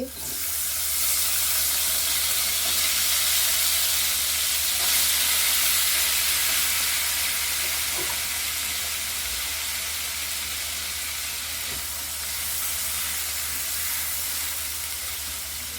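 Diced small new potatoes sizzle steadily in hot oil in a pan for a spicy coral fish curry, a broad even hiss running throughout with a few faint stirring touches.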